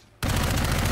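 Sudden burst of rapid enemy gunfire in the Dark Void video game, a dense, loud continuous volley that starts abruptly after a brief quiet moment.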